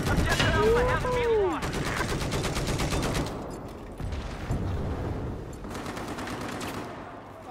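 Sustained rapid gunfire crackles through a Twin Guns 2 battle, dense automatic bursts with brief gaps, loud and close, with a swooping engine-like whine early and a voice briefly heard.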